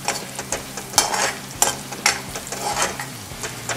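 Green chillies with coarsely ground coriander and cumin frying in hot oil for samosa filling, a steady sizzle broken by several louder scraping stirs at irregular intervals, close and alone.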